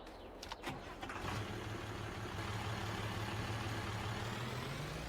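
A tractor engine in Farming Simulator 22 cranks briefly with a few clicks, then catches and settles into a steady, low, rumbling idle that continues evenly to the end without speech.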